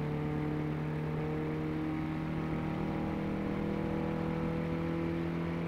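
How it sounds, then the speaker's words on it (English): In Car Mechanic Simulator 18, a Koenigsegg One:1 engine holds a steady, droning rev at high speed in fifth gear, a continuous mid-pitched whir with layered tones, moderately faint and alone. "now you can hear the engine really getting up there now"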